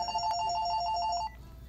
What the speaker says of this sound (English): The phone is ringing off the hook.